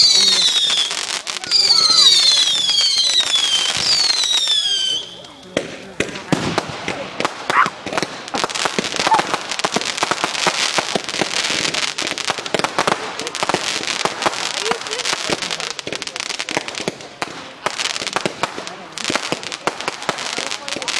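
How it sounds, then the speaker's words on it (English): Bonfire night fireworks going off outdoors, opening with whistling rockets, then a dense run of crackling bangs and pops, loud and near, with people talking and exclaiming throughout. "The fireworks come over here."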